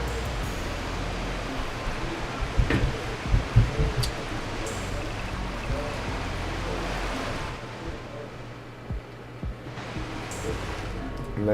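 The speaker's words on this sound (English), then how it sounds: "You got an actual waterfall here." An interactive waterfall in Farming Simulator 22 rushes as a continuous, full roar of falling water, steady and close, with a few brief knocks over the top and a slight dip in level near the end.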